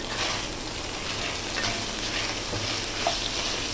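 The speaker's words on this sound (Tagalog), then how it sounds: "Igisa lang natin yan ng mga 1 to 2 minutes guys." Chicken sautéing with onion and garlic in a pan for garlic lemon chicken, a constant close sizzle with faint stirring movements and a low steady hum beneath, no talking.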